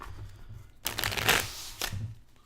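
Magic the Gathering cards being shuffled at a table, a short riffle that swells for about a second, then a brief second burst, close and fairly loud with no talking.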